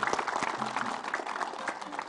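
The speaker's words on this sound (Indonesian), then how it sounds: "Tepuk tangan." A studio audience at a religious TV programme claps in a short, moderate burst of applause, steady for about two seconds with faint voices underneath.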